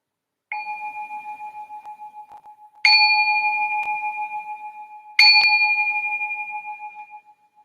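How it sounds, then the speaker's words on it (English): A meditation bell rung to signal the start of a session, struck three times with clear ringing tones, each strike fading slowly and pulsing gently in a quiet room. "So I'm going to ring the bell to signal the start of this meditation."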